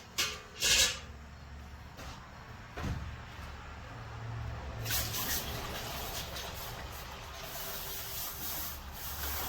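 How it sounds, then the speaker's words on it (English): Semi-clean water is poured from a container into an ultrasonic cleaner holding degreaser for cleaning a Honda Foreman carburetor: a few knocks and clunks first, then a steady, moderately loud splashing fill that continues to the end. "I'm going to top it up with some semi-clean water"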